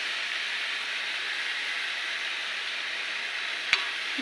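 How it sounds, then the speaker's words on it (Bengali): Chili, turmeric and cumin powder masala frying in oil as it is stirred: a continuous even sizzle and hiss throughout, close and steady, with one brief clink of a utensil near the end. "এবার দিয়ে দেবো লঙ্কা গুঁড়ো, দিয়ে দেবো হলুদ গুঁড়ো, দিয়ে ভালো করে নেড়ে চেড়ে কষিয়ে নিই।"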